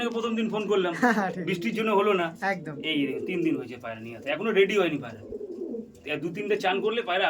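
Andhra pigeons coo in low, throaty, warbling calls that overlap close by, mixed with someone talking over them.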